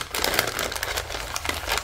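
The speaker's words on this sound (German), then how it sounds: "Hier mache ich mir noch einen kleinen Falz, weil ich den gleich auffächern möchte." Newspaper being folded and creased by hand into a small seedling pot, giving close, continuous crinkling and rustling paper noise with soft crackles throughout.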